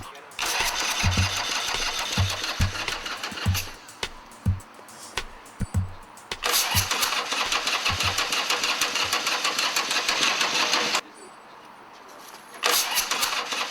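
A custom-built motorcycle engine cranks in repeated bursts, then catches and runs loudly, cutting out and restarting once near the end; voices are briefly heard.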